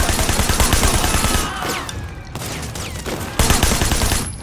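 Gunfire in the video game Cyberpunk 2077 rattles in dense, rapid bursts under loud, busy game sound, with a brief lull in the middle before the shooting resumes.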